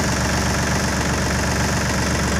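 A tractor engine idles steadily and loudly close by, a continuous low rumbling chug with a fast regular knock that holds unchanged throughout, with no voices over it.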